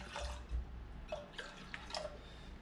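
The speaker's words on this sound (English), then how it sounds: "You just want to pour in about like half a cup." Vinegar poured into a Yeti tumbler, giving a few soft, close liquid splashes and drips that come in short bursts and stop, with no talking.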